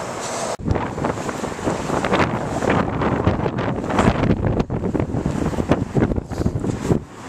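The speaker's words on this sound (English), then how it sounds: "That's a nice windy day out again." Steady wind buffeting a microphone outdoors, a loud continuous rumbling roar with gusty swells throughout.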